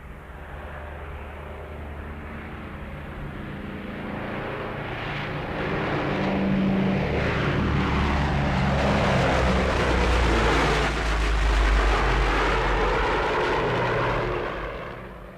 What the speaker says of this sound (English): Here is the surging power of a DC-7, and here it comes.